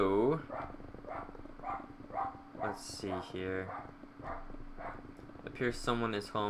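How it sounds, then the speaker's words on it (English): A dog barks intermittently in the background of a Minecraft prison-server gaming session, the barks partly masked by near, continuous talking. "like my dog barking in the background and stuff."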